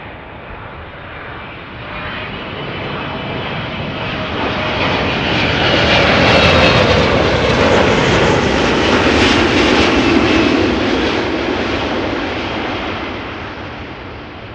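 A passenger jet arriving on runway 06 at Amsterdam Schiphol Airport roars past, a broad engine rumble that swells to a loud peak mid-pass and slowly fades, with no voices.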